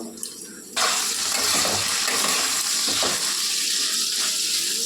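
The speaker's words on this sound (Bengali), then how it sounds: "আলুগুলো এবার লাল লাল করে ভেজে নেব।" Potatoes frying in oil for a fish curry with ridge gourd, a steady loud broadband sizzle that starts abruptly after a short quieter lead-in and continues unbroken, with faint stirring.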